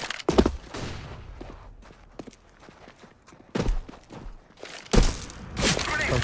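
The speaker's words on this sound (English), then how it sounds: "Throwing flashbang." Flashbang grenade and gunfire in a video game, heard as several sharp loud broadband bursts, one near the start and stronger clusters toward the end, with quieter rattling and footstep-like clicks between them.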